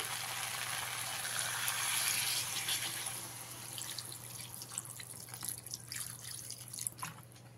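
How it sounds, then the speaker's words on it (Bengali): Water poured from a container into a pan of frying raw pumpkin and softened tomato on a kitchen stove, a steady close splashing pour that thins into scattered drips and small trickles toward the end. "এবারে এর মধ্যে দিয়ে দিতে হবে পরিমাণ মতন জল"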